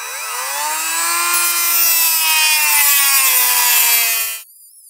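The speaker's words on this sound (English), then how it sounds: "we'll just come in here with the cutoff wheel and we'll cut a slot out" A cutoff wheel slices a slot into a Yamaha Blaster 200 engine part, producing a loud, steady, high-pitched grinding whine that runs for about four and a half seconds and then stops abruptly.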